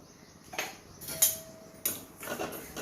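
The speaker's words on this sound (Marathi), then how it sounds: "याच्यात मी बघा खसखस जी आहे खसखस भाजून घेणार आहे" Poppy seeds roasting in a pan on a gas stove, a spoon stirring them with a few distinct metallic clinks and scrapes against the pan over a quiet background.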